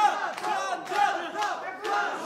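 A fight crowd roars in repeated waves of shouting and cheering at an arena combat event, loud and close, with three or four surges.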